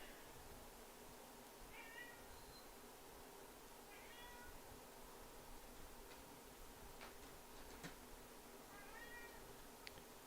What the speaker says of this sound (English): You guys can probably hear my cat meowing at me.